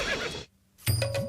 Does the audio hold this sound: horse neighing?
yes